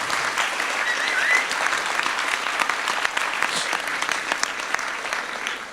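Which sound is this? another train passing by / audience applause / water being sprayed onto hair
audience applause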